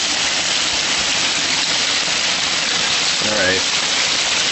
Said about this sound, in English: But this is the most hail I've ever seen in my young life.